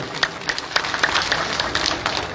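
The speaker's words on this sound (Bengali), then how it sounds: "সবাই মিলে একটা করতালি দেওয়ার জন্য আমি অনুরোধ করব" Applause from a crowd at an outdoor political rally, a dense patter of many hands clapping steadily for about two seconds with a few sharper claps standing out, fairly close.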